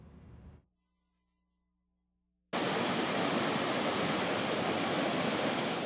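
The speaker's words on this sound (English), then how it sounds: "the sounds of raging waters and the sights of flooded streets brought neighbors in Anmore out of their homes" Raging floodwaters surging through flooded streets in Anmore, a loud, steady broadband rush that cuts in abruptly after a brief quieter stretch and a moment of near silence, then continues unbroken.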